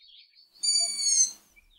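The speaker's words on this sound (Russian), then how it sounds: "Это же голос летка ушастой совы." A single thin, high, wavering call of a long-eared owl fledgling rises out of near silence in Tashkent, clear and moderately close, lasting about half a second.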